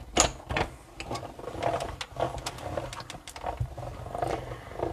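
A hand-cranked paper die-cutting machine rolls a plate through for a Stampin' Up shaker card, giving a continuous grinding, clattering mechanical sound with repeated small knocks, close and fairly steady, with no talk.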